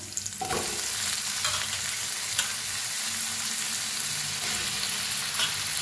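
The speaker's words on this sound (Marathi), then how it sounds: "छान भाजले बघा, त्याच्यात टाकूया बटाटो।" Potatoes roast and sizzle in a hot pan for a fasting-day potato dish, with a steady hiss of frying and scattered scraping clicks as they are stirred, close and alone with no talk.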